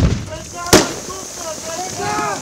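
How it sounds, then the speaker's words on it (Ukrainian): A single sharp, loud blast cracks out during soldiers' training on a psychological combat obstacle course in Rivne region, standing out against someone speaking throughout. "Усі ці дії військовослужбовців супроводжуються постійними вибухами, підривами мін, розтяжок, стрільбою."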